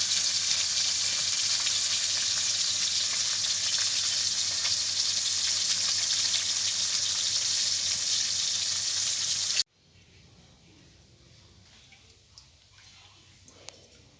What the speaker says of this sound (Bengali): মাছটা ভাজা হতে থাক